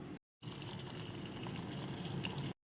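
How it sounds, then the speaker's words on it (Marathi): Water rinses a bowl of mixed chana, math and moong dal in a steady, continuous wash. It is fairly faint and holds at an even level for about two seconds, with no voices. "इथं 2 ते 3 पाण्याने डाळी स्वच्छ धुवून घ्यायच्या"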